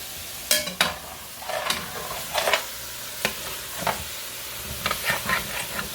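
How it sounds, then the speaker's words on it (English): A spoon scrapes and stirs the bottom of a pot while chicken sizzles for a Cajun red gravy, with repeated short scraping strokes over a steady, soft frying hiss. "you start scraping the bottom of your pot because you want to scrape all that stuff from the meat that sticks to the bottom of the pot"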